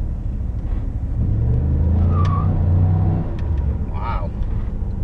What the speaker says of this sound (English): a big V8 LS engine in a relatively lightweight car like this makes sense